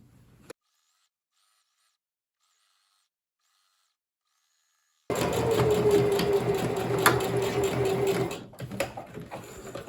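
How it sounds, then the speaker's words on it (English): A sewing machine stitches along a folded one-inch fabric hem for a cloak, running steadily and fairly close for about three seconds after a long silence, then stopping with a few faint handling noises. "I'm going to be folding it in about 1 inch and then sewing along that line"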